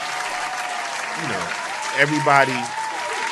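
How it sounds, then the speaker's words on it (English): Clapping rattles along in the background of a talk show while someone speaks over it, the applause steady and moderately loud beneath her voice. "I got to clap"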